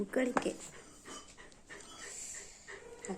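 A dog pants softly in quick, breathy bursts, close by, with a brief louder sound near the start.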